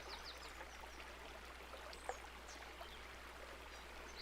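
A gentle stream flows steadily with a soft, constant trickle and a low hum beneath, quiet and unbroken apart from a brief tap midway.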